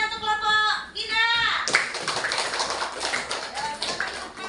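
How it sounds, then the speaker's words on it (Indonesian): Children in a classroom clap for a group after a lesson, a burst of dense applause following a spoken prompt, continuing under chatter and a teacher's voice. "Beri tepuk tangannya untuk kelompok Gina."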